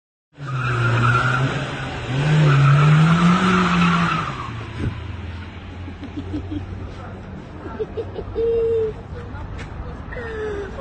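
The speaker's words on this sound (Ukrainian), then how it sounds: "Шалений водій максимально витиснув газ та зверху" A car speeds off at full throttle on a street in Lviv, with a loud, wavering engine roar and tire squeal rising and falling. A news narrator talks over the sound.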